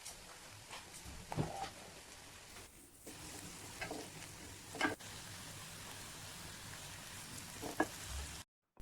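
Finely chopped garlic sizzles in a hot pan with curry leaves while making crab masala. The frying hiss is soft and steady, broken by a few sharp stirring clicks.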